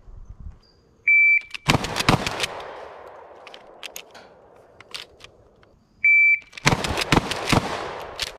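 A pump-action shotgun fires two loud blasts about five seconds apart, each preceded by a beep and followed by rapid clacking bursts of the pump being cycled, with a long echoing decay between them; no talking.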